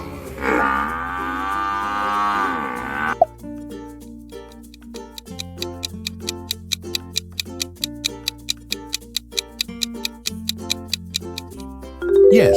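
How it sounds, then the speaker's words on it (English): A buffalo gives a deep, heavy, drawn-out lowing call for about three seconds. A ticking countdown over a simple repeating tune follows in an animal-sound quiz. "Yes, that is buffalo."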